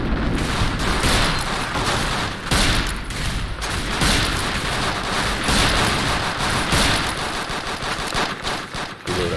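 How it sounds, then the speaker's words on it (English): Rapid gunfire in Fallout: New Vegas as townsfolk and gang members shoot it out, dense overlapping volleys of shots with booming impacts, loud and continuous throughout. "the Pettigangers have already started shooting, so I'm going to light them up"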